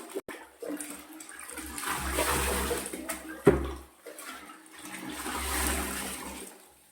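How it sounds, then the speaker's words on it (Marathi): Leftover whey from homemade paneer is poured and swirled in a vessel, two surging rushes of water with a sharp knock between them, close and moderately loud. "आणि तीन अशा पद्धतीने आपण हे पाणी छान मिक्स करून घ्यायचंय"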